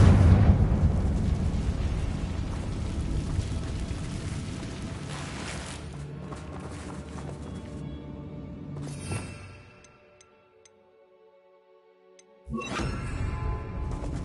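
A Confringo explosion spell in Hogwarts Legacy erupts as a loud broadband blast and rumbling roar that fades out, followed by a brief lull and another burst of sound.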